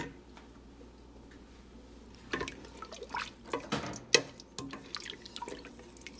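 Ten cups of water going into a pot of lugaw, Filipino rice porridge, heard as splashing, dripping and sloshing that starts partway through and continues unevenly, close and moderately loud without talk.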